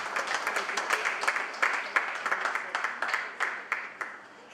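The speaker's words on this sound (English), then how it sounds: "Please, another round of applause for him." Applause from the audience at an international conference, a steady patter of many hands clapping for about four and a half seconds with a few louder individual claps standing out.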